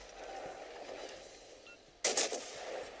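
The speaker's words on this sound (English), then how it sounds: "Now I'm maintaining my high explosive barrage on the Cleveland" Ship guns fire high-explosive shells in a naval video game, a sharp burst of several booming shots arriving together after a steady background hum.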